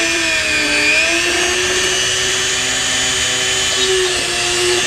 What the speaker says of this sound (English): I use a little Dremel here with a drill bit on it